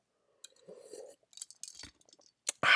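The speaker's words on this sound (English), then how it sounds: "I'm down to the ice cubes." Ice cubes clink and rattle in a nearly empty drinking glass, close by: a few brief, scattered knocks, then a louder burst of clinking at the end.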